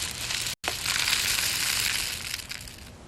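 Continuous close shaking of rice and dried peas in a homemade shaker, a dense hissing rattle that stops briefly near the start, then carries on steadily before easing slightly.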